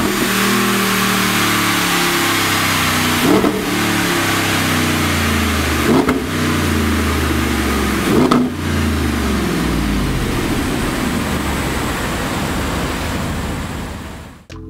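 An Audi R8 V10 Plus engine revs hard in a dyno booth during a high-speed run-up, holding a loud, steady roar with a few brief gear-change dips before fading out at the end.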